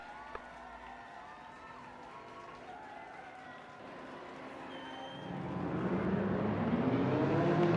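Thirty race cars in a simulated Laguna Seca 8-hour rolling start, a steady engine drone that swells into a louder, building roar of many cars in the final seconds, with no voices over it.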